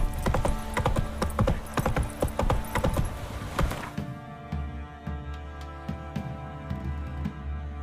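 Horse hooves in The Witcher 3 game, a rhythmic clip-clop of a trotting horse, loud and dense at first then easing into a lighter, steadier beat over a low ambient drone.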